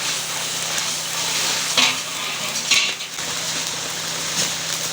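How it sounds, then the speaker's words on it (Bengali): Large batch of chicken shahi korma for catering, 16 kg of chicken with sour yogurt, being stirred and fried in a big pot, giving a steady sizzle with scraping clinks of a utensil against metal. "700-800 টক দই দিয়ে আবার তপনদা এটাকে কষাচ্ছে।"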